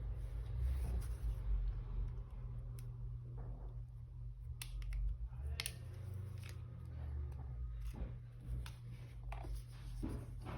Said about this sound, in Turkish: Daha sonra sim kart tepsisini çıkarmamız gerekiyor.